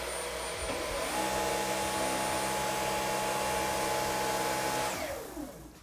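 A Dyson cordless stick vacuum running in auto mode gives a steady, loud motor whir with a high whine, close by, then winds down as it switches off at the end.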